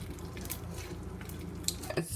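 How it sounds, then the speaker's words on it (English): Slime mixed with foaming hand soap, held close to the microphone, giving a soft continuous crackle of tiny bubbles popping, with a few slightly sharper pops near the end, no talking. "It's just like all the tiny bubbles popping."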